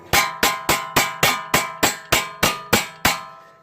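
Hammer striking the tapered studs of stabilizer links on a 2010 Chrysler Town and Country van, eleven sharp metallic taps at an even, quick rhythm, close and ringing briefly after each blow, with no talking.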